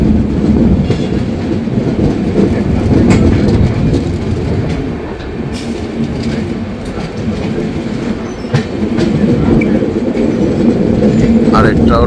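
The 13135 Kolkata–Jaynagar weekly express runs along, heard from inside a 3AC coach: a steady, loud rail rumble with rhythmic wheel clatter and occasional squeals, plus faint voices in the background.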